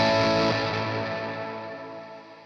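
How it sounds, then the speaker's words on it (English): An electric guitar chord rings out through fuzz and Blues Driver overdrive pedals into a spacious space station reverb, a thick distorted swell slowly decaying with a shimmering tail. "So we'll just hear the space station again, and I'll pop the fuzz and the blues driver on"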